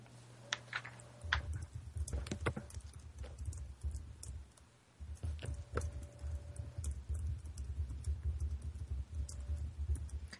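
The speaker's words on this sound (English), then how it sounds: "so I'm typing the question to her" Fast typing on a computer keyboard, a steady stream of soft, close key clicks running throughout with a brief pause midway, no voices.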